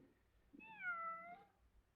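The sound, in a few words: cat meowing, shut in somewhere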